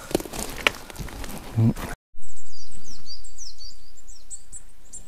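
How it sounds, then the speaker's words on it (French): Birds sing and chirp in a mountain forest in the Haut-Var, several high twittering calls repeating clearly after a brief stretch of footsteps and rustling. "Que les oiseaux."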